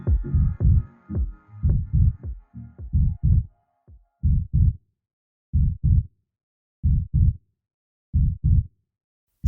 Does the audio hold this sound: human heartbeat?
yes